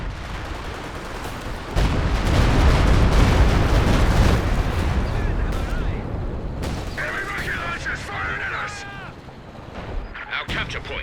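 Katyusha rocket artillery in Company of Heroes 2 sounds as a loud, dense rumbling barrage of overlapping blasts, with a softer rolling tail and scattered distant battle noise behind it.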